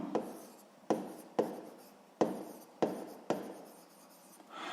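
Hand-written math answer for a sixth-grade exercise, pen or pencil strokes scratching on paper in six short bursts, each starting sharply and fading, close and clear with no talk.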